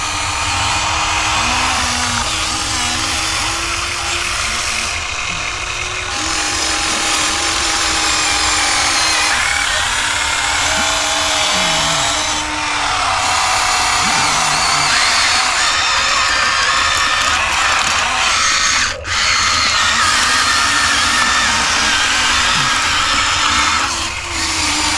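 HUINA 1593 RC excavator digging into hard sand outdoors: a steady, loud whine of its motors and hydraulics runs continuously, with scraping and shifting tones as the arm moves. No voices.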